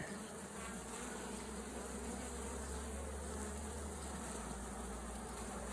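Honeybees swarm over a hive frame during a beekeeping inspection, making a dense, continuous buzzing drone that stays close and loud with no pauses.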